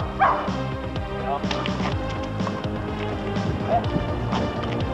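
Presa Canario dog barking on the Canary Islands, a few sharp bow-wow barks rising over steady background noise and nearby talk.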